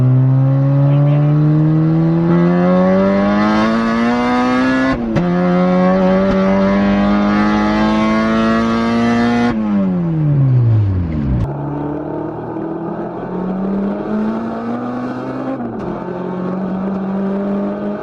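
A Honda Integra's engine revs up through the gears from inside the cabin, rising whine broken by shifts, then deceleration and renewed pulls, loud and continuous without talk.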